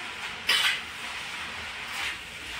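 A utensil mixing food colouring into chowmein in a pan: a sharp metallic clank against the pan, then a steady scraping, sizzling hiss with a second softer scrape near the end, close and fairly loud.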